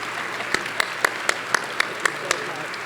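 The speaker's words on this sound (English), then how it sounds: "Let's give her a great round of applause." Steady audience applause at a chamber of commerce annual meeting and awards event, a dense crowd clapping with a few sharper claps standing out at a regular beat, filling the room without pause.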